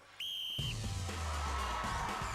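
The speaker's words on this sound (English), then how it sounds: "Contenders, you will go in the first blow of the whistle." A single whistle blast starts a Gladiators contest event, a sharp short tone followed by a rising roar of crowd and arena noise.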